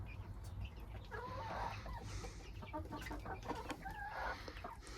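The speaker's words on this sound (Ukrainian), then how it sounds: "насипали ми курчаткам повною кормушку" Chicks at a full feeder on a home farmstead, a steady soft clucking and peeping chorus close by under constant background noise, with no one talking.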